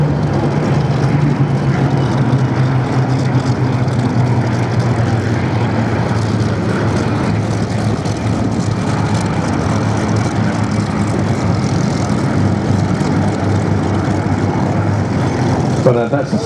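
A Blenheim bomber, three Spitfires and a Hurricane of the Second World War fly overhead, their piston engines and propellers making a loud, sustained roar that barely changes throughout.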